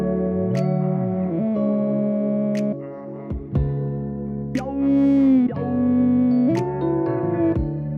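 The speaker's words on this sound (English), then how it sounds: "I'm adding a talkbox in. What's cool about this one is it kind of glides into the notes" Smooth synth-like vocal tones slide and bend into each pitch, a talkbox gliding between sustained notes over a soft layered loop, with no talking.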